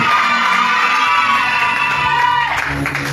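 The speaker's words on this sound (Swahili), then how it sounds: "Shangilia makofi yako juu ya tukufu ya Yesu" A church congregation cheering and shouting in praise of Jesus, a loud sustained crowd roar with whoops, then fuller applause rising near the end.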